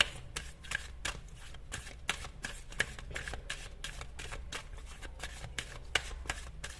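Tarot cards being shuffled, a rapid run of crisp papery flicks and riffles at an even quick rhythm throughout, close but fairly soft.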